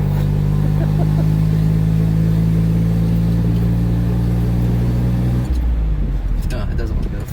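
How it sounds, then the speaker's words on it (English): A Subaru Justy accelerates up through the gears, its engine drone loud and steady for over five seconds before dropping off into rougher, uneven running. A voice talks over it. "Let's see how this goes up to 3rd gear."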